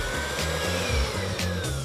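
Electric mixer whirring steadily as it beats cake batter with egg and vanilla seeds, a loud continuous motor hum with a slightly wavering pitch and no talking.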